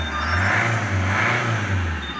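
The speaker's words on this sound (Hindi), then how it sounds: "उसके बाद गाड़ी को आप एक बार रेव करिए" A used car's engine revs steadily under inspection, a sustained rising and holding roar with strong low rumble, loud and close with no talking.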